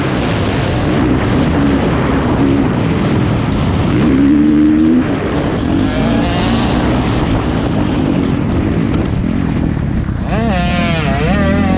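Dirt bike ride at a motocross track: a loud, continuous engine roar rising and falling with revs close to the microphone, wind buffeting, and a few voices talking over it.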